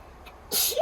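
A single sharp sneeze bursts out close by, a bright burst of breath followed by a short voiced tail, after near silence.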